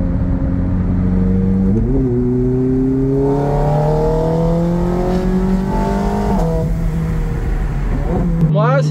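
Ferrari 458 Speciale and 430 Scuderia with Capristo exhaust revving hard nearby, a loud rising and falling engine howl that climbs in steps and drops off, with voices talking over it.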